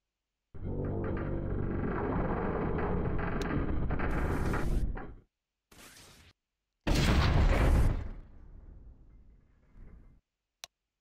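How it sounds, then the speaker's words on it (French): Heavy booming cannon blasts in a video game, in separate bursts, loud and close, separated by short silences, with a final sharp tick at the end. "Tir de canon et tout."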